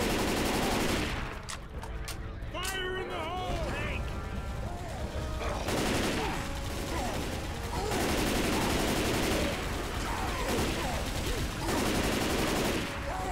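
Sustained automatic gunfire pours into a Tank in Left 4 Dead 2, loud dense bursts running nearly the whole stretch, with players' voices talking over the shooting in the middle.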